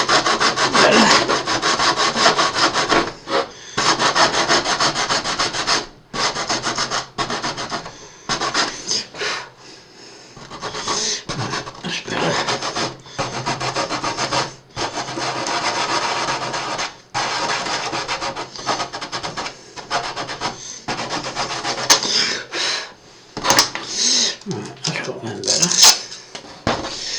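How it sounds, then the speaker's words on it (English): Hand sanding on a part of a Trumpeter 1/200 HMS Hood plastic model kit, steady raspy rubbing strokes close to the mic, repeated in rhythmic passes with short pauses, while someone talks at times. "let's have a look and see if I can sand this down a bit better now."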